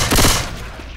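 Gunfire in the video game Left 4 Dead 2, a loud dense burst of rapid shots filling the first half-second, then decaying into a rumbling tail.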